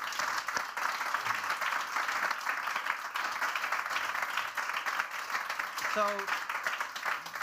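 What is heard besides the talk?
applause for the panelists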